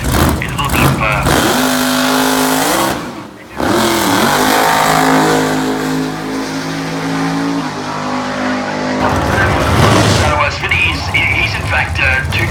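Loud supercharged blower drag race car at a radial tire event, engine roaring steadily with harmonic drone and revs through the launch, a commentator talking over the top throughout.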